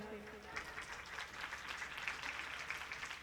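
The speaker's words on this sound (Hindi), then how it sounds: "आप अपने लिए एक बार ताली बजाओ जोर से।" A crowd at a Bhagavat Katha religious gathering in a village claps in a sustained burst of applause, heard at moderate distance, with a voice speaking over it.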